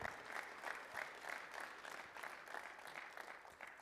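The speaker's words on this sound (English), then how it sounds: "Can I get a round of applause?" An audience applauding at a community engagement session about an athletic renovation project, with continuous clapping from a crowd that fades slightly toward the end, heard from a distance and fairly faint.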